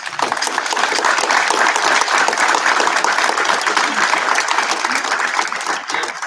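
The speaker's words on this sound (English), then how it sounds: "We can give them a round of applause, please." An audience at a township council meeting gives a round of applause, a loud, dense burst of many hands clapping that holds steady for several seconds before tapering slightly.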